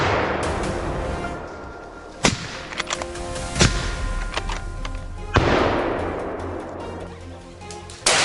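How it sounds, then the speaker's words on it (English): Several sharp, loud gunshot cracks ring out in an outdoor wild boar hunt on farmland, spaced irregularly with brief echoing tails between them. "With a single, clean, and precise shot, the massive beast was brought down."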